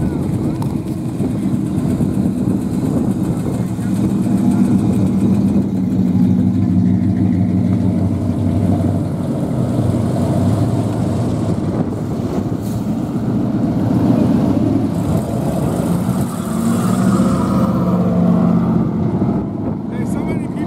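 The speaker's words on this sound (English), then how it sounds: "That Miata sound odd to you?" A Mazda Miata's engine runs with an odd note at a car event on the road, a continuous low mechanical rumble with people talking over it.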